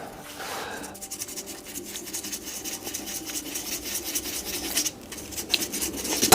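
Abrasive grit sands a multicoloured resin shaving brush blank spinning on a lathe, a soft continuous rubbing hiss that swells gradually and ends in a short louder scrape.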